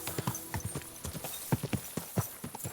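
Horse hooves galloping in the medieval game Kingdom Come: Deliverance II, a fast, irregular drumming of hoofbeats heard close and fairly loud with no talk over them.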